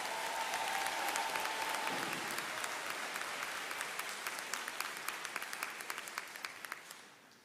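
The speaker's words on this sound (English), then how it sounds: "Let's give them a round of applause." Sustained applause from a large crowd honoring the 2022 graduating class at a Brown Deer High School commencement, dense and steady at first, then thinning to scattered individual claps before fading out.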